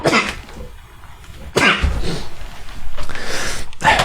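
A sudden loud sneeze close by, followed by a second burst and some breathy noise, with brief voice sounds around it.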